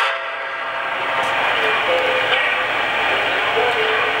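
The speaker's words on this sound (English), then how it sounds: "Hold it until you hear the whistle and the bell." An NYC Niagara steam locomotive model sounds a steady, sustained whistle tone over a continuous rushing background, with faint ringing bell-like touches, fairly loud and near.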